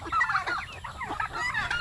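A turkey gobbles loudly and close, a rapid warbling burst that fills the short moment, with another bird calling faintly behind.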